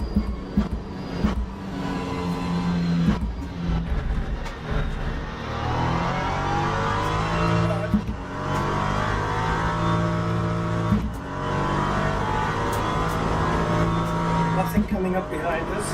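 Race car engine in the Assetto Corsa EVO racing game, revving up and down through gear changes with rising and falling whine, continuous and prominent beneath someone talking.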